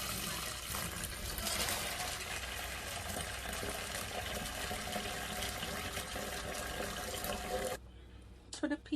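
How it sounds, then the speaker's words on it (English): Running water pours and splashes steadily while peas are rinsed clean for Jamaican rice and peas, a close, continuous hissing flow that cuts off near the end, leaving a few light clinks and splashes. "wash the peas until it's clean"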